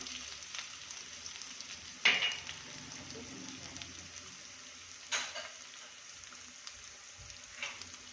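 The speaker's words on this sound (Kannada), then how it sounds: "ಈಗ ಫ್ರೈ ಮಾಡ್ಕೊತೀನಿ" Garlic and onion fry in a pan with cumin, making a soft, low sizzle, with a few sharper stirring clinks and scrapes spaced apart, close but quiet, and no talking.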